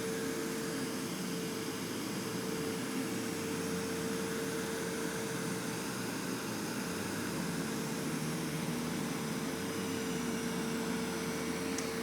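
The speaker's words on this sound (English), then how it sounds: "you can tell the noise of this vacuum" A Samsung POWERbot R7070 robot vacuum cleaner runs with a steady, unbroken whirring hum and a faint tonal whine, close by and moderately loud, with no talking.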